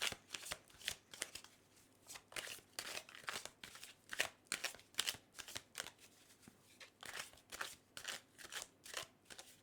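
Tarot cards being shuffled by hand, close and crisp, in quick rhythmic riffling bursts repeating steadily with brief pauses between, no speech.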